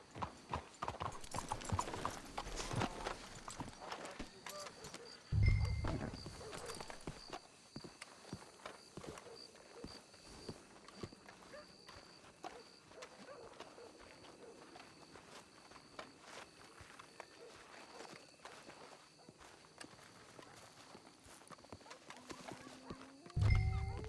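Horses in the Red Dead Redemption 2 video game walk with steady clip-clop hoofbeats, close and clear, while whinnies and snorts break out loudly around the fifth second and again near the end.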